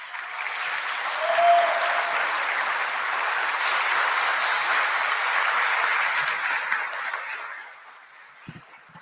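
An audience applauds an engineer at a talk about restoring the ceilings of La Milarca, a sustained crowd clapping that swells, holds steady for several seconds, then tapers off.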